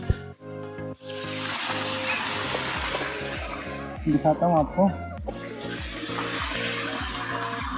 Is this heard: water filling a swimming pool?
yes